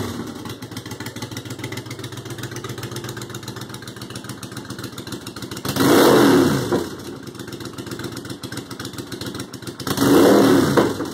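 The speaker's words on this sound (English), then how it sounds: "So I fabbed up this piece of shit exhaust and I'm gonna see what it sounds like." A Yamaha Virago motorcycle with a homemade fabricated exhaust idles with a loud, steady, rough rumble, then revs hard twice in swelling bursts before dropping back to idle.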